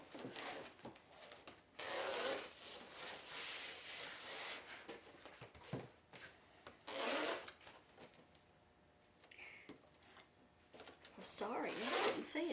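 A rotary cutter slices through burgundy mesh on a self-healing cutting mat, giving several rasping, scraping strokes with pauses between them. The strokes are up close and fairly loud over a quiet room.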